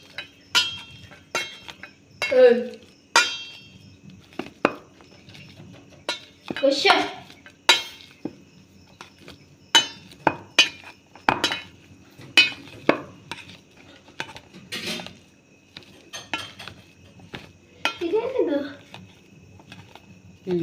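Boiled potatoes being mashed in a bowl for aloo masala bonda, a string of sharp clinks and soft squelching presses from a utensil against the bowl, close and irregular, with a voice talking faintly at times.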